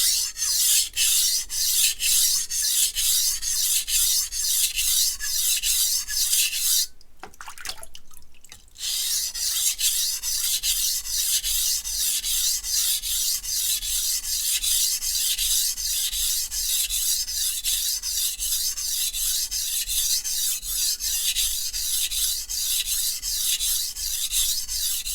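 A Zwilling Pro Santoku knife drawn repeatedly across a sharpening stone, giving a steady rhythmic rasping scrape in back-and-forth strokes, close and continuous, with a brief pause near the middle.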